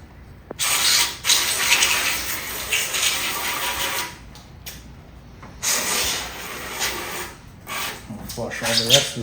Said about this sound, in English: I'll flush all the rest of the soap out.